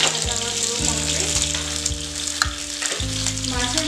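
Fish head frying in hot oil makes a steady, close sizzle that runs the whole time, with a few clinks or stirring knocks over it.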